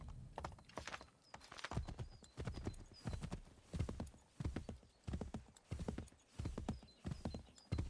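Horse hooves clip-clop in the Assassin's Creed 3 video game, a steady trotting rhythm of hoof strikes repeating in clustered bursts, close and prominent with no voices.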